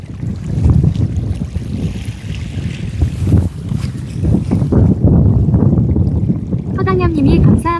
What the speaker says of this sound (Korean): 나 말하고 있는데 바람 부는 것도 보세요